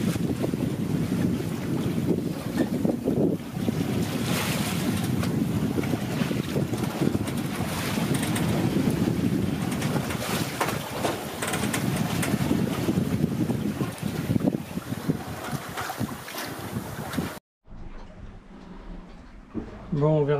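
Wind and rushing water surround a Beneteau Oceanis 38.1 sailboat under sail after sunset on a crossing to Corsica, heard from inside the cabin as a loud, constant roar that drops suddenly to a quieter interior where a voice speaks.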